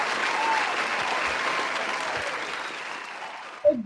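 Audience applause at a festival welcome day, steady dense clapping filling the room for several seconds before tapering, with a brief voice at the very end.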